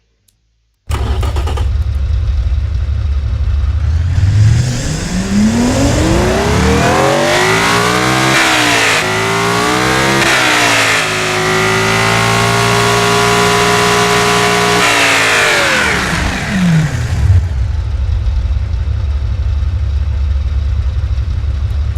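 Hypercar engine in the Automation game starting up, then revving hard through a long climbing sweep, holding high revs and dropping back to a loud idle; close, loud, no talking.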